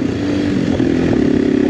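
A loaned motorcycle rides over small rocks on an off-road trail in Portugal, the loud close engine droning steadily with a rough, throbbing pulse and faint clatter underneath.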